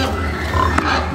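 A pig grunts in a short, coarse burst amid loud, rough low-frequency background noise, close to the listener.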